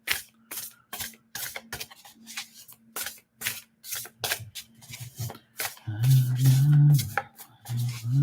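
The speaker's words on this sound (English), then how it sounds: "I want to shuffle cards." Tarot cards being shuffled by hand in a series of quick riffling, rubbing bursts, close and fairly soft, with brief pauses between and a louder rustle toward the end.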